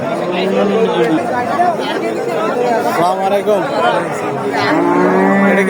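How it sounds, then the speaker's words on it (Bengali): Cattle moo repeatedly at a crowded Qurbani livestock market in Shyamnagar on a hot day, drawn-out calls rising over constant crowd chatter, with people talking nearby. "আপনার পোষা গরু"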